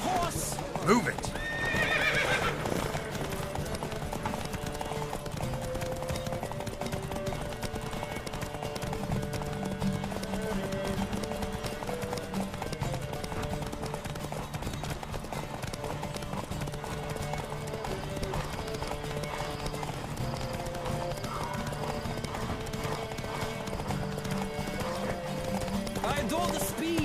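Horses gallop in a horse race in the video game The Witcher 3: Wild Hunt, continuous clip-clopping hooves and an early whinny, under a steady music-like drone and voices talking.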